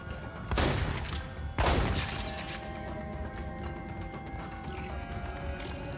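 Two sharp shotgun blasts in the video game Red Faction: Armageddon, fairly close and spaced about a second apart, followed by a lingering rumbling game ambience.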